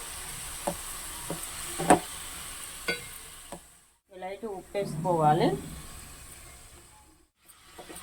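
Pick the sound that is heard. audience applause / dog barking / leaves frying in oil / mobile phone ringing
leaves frying in oil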